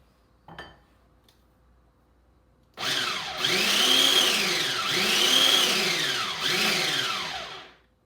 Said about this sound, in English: Continue blending until the pesto is smooth.